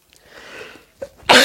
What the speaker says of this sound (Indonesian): Wajar kalau bersin-bersin ya